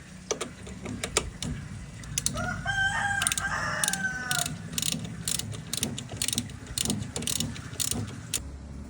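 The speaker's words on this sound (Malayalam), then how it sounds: "പതിനാലിൻ്റെ ബോക്സ് എടുക്കുന്നു മുറുക്കുന്നു" A size 14 box spanner tightens a nut over a washer on an old vehicle being restored, giving a string of quick, close ratcheting clicks in short bursts, while a rooster crows in the background.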